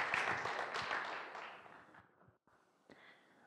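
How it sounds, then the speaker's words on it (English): A conference audience claps for the speaker of a talk on Maemo Leste, with broad hissing applause that fades out over about two seconds, cuts to silence, then a lone clap or two. "So please a round of applause for what he's doing and the speech that he's going to deliver now."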